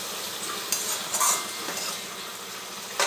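Leafy greens, seasoned with a little salt, frying in a pan with a continuous hiss, broken by a few sharp clinks and scrapes of a spatula against the metal, heard up close and without voices.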